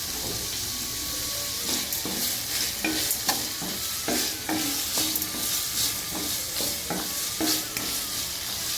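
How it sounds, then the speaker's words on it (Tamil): Tomatoes and carrots with salt sauté in a pan for rava khichdi: a spatula scrapes and pushes in repeated strokes over a constant sizzle, fairly close, with no voices. "இது ஒரு நிமிஷம் நல்லா வதங்கட்டும்"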